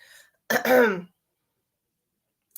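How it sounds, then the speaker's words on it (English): A single throat clearing, a short rough burst close to the listener, followed by silence. "She's making me clear my throat a lot."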